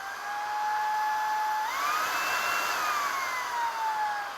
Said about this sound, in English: that is with this vacuum running on Eco mode, which is the quieter mode